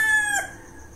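A rooster crows once in a garden where chickens are kept, the call clear and fairly close, fading out into quiet within about a second.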